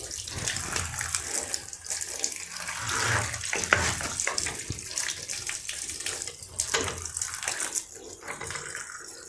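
A tap runs at home while sticky jackfruit sap is washed off, giving a steady rushing splash of water with uneven surges and splatter, close and continuous.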